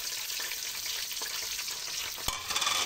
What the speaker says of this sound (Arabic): هسقط البصل بتاعي اهو، هسقطه واشوحه اهو